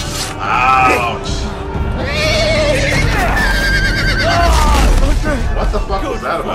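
A horse in the Game of Thrones video game neighs loudly in long whinnies, with several calls stacked across a few seconds amid busy game sounds and overlapping voices.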